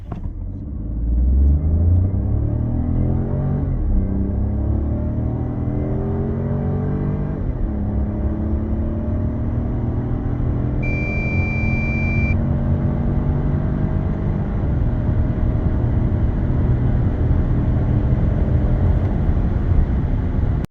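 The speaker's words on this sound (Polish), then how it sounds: "dźwięk wydechu podoba mi się, jest charakterystyczny dla trzech cylindrów i brzmi moim zdaniem dobrze" Citroen C4 X with the 1.2 PureTech 130 three-cylinder engine and EAT8 automatic, heard from inside as it accelerates hard from a standstill, a steady loud engine and exhaust drone rising through the gears with no talk.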